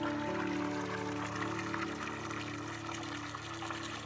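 Spring water from a natural mountain stream in the hills runs and pours steadily, a continuous close wash of flowing water with a low pump-like hum beneath it and no talking.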